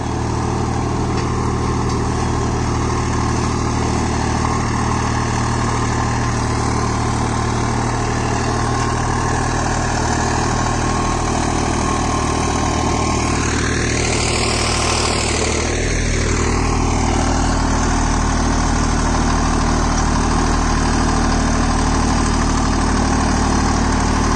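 A Solis 5024S 4WD 50 HP tractor pulls a rigid cultivator through a field, its engine rumbling in a steady heavy drone with a brief rising and falling surge midway, loud and continuous.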